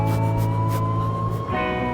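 An ambulance siren wails loud and close, a steady tonal cry that shifts pitch partway through and continues with no break.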